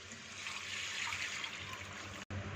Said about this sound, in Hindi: इसमें 2 गिलास पानी शामिल कर देंगे।